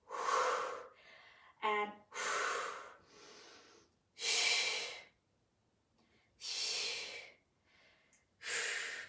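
Heavy rhythmic breathing during a workout exercise, loud, close bursts of exhaled breath with gasps and snorts repeating every second or two, with a brief word spoken.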